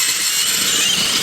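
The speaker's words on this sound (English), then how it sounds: "So start drilling." A power drill fitted with a large hole saw bit cuts steadily through material while installing an outdoor faucet, a continuous loud high-pitched grinding whine that holds without a break for the whole short stretch.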